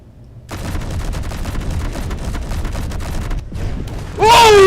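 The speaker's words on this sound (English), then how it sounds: "It's supposed to explode when it has ammo in it." A block loaded with ammunition explodes in the space-building video game Space Engineers, a rapid crackling burst of detonations, loud and close, ending in a sharper final blast with a sweeping tone.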